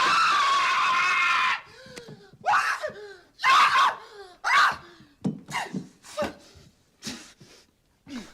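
A boy's guttural scream from the tarantula scene in the film Home Alone, one long loud shriek followed by a string of shorter, broken yells and gasps.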